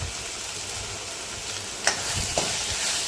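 Onion and ground masala paste with turmeric, chilli powder and kanda lasun masala stir and fry for chana masala, a steady soft sizzle with a couple of faint scraping clicks, no talking.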